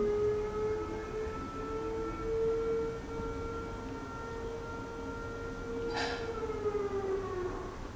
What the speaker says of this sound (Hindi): मस्जिद में जी सायरन बज गया